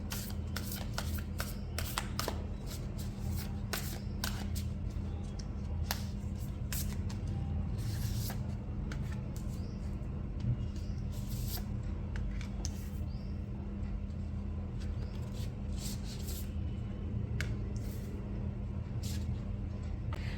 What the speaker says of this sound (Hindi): जब तक मैं कार्ड्स शफल कर रही हूँ